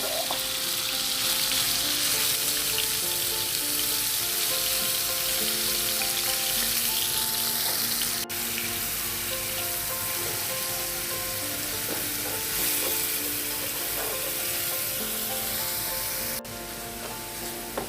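Marinated chicken mince sizzling steadily in hot oil, a loud, continuous close frying hiss with occasional stirring scrapes, no voices.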